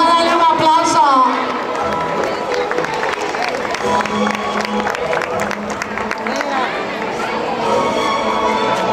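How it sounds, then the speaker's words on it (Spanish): A crowd applauds and cheers in a large space, steady clapping with voices and chatter mixed in throughout. "Le vamos a darle un aplauso."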